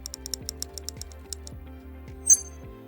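Keys clatter on a computer keyboard as a name is typed into a Mac support inquiry form, a quick run of close, light clicks with one sharper tap near the end, alone without talk.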